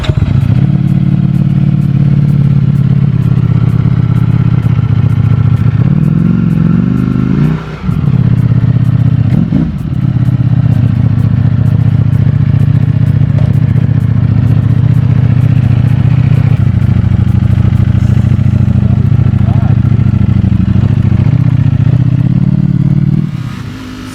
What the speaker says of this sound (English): this is my first time riding the brand new Ducati V4 Panigale